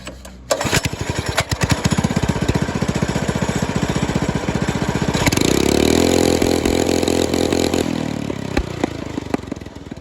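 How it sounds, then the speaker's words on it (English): A 212cc go-kart engine cranks and catches, running with a rough, rapid putter before revving hard up to its rev limiter and bouncing there loudly, close up, with no talking. "I'm gonna end the video with a rev limiter, and it's gonna start right up"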